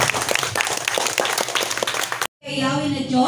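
Audience at a church family camp clapping in a dense, lively burst of applause with voices mixed in, cutting off abruptly before singing begins.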